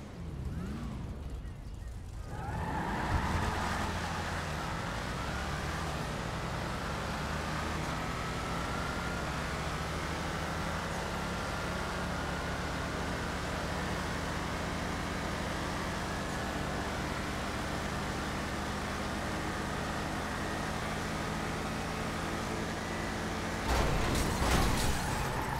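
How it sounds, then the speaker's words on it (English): Cars in GTA Online, a Buffalo STX among muscle cars, run a drag test at an airport. A loud engine roar holds steady for most of the clip, with a sharp shift near the start and another burst at the end. "I did a drag test at the airport with the Buffalo, the Dominator ASP, and the Gauntlet Hellfire"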